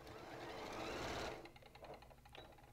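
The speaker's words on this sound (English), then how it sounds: "Figuring out the tension on your sewing machine is not so great." A sewing machine stitches quilt fabric, first a quick run of fast, even mechanical whirring, then slower separate stitching clatters. The machine is quiet and close, with no voices.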